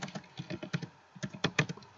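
Quick keystrokes tap out a file title on a computer keyboard, a close, steady run of light clicks with brief pauses and no talk.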